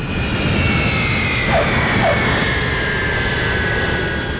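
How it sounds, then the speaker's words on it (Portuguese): A jet airliner roars steadily and loudly, its engine whine droning without a break, in a re-created landing of US-Bangla Airlines Flight 211 at a runway in Nepal. "o avião aterrissa no meio da pista em vez de no ponto inicial"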